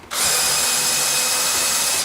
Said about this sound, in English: I like these Forstner bits. They make a nice clean hole, and I'll drill